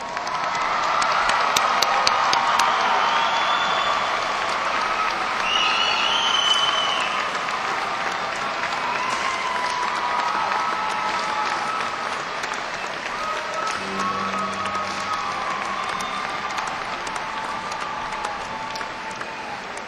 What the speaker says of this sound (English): Let's give all our graduates a round of applause.